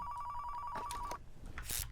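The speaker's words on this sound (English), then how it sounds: "That phone ringing does get kind of annoying." A telephone rings in the Car Mechanic Simulator 2015 video game, a steady electronic trill that holds through the first second before breaking off, with game noises following.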